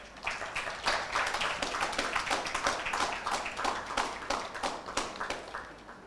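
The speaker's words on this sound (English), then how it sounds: "Please welcome him with immense round of applause." Audience applause welcoming Prince Manvendra, an openly gay prince and LGBTQ activist, at a community event: dense, steady clapping from many hands sustained throughout with no speech.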